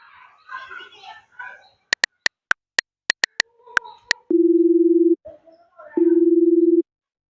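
Voices murmur first on a phone call that won't connect. Then a quick run of sharp keypad beeps is heard, followed by two long, steady, low electronic tones separated by a short pause, loud and close.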